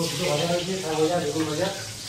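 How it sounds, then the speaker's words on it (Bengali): Eggplant slices fry in hot oil at a roadside food stall in Purulia, a steady close sizzle with bustling background noise. "এটা হচ্ছে বেগুন ভাজা হচ্ছে"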